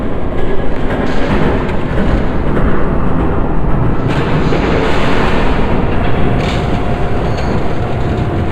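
A train passes in Batman: The Telltale Series, a loud, dense roar and rumble that stays heavy and continuous throughout, with no voices.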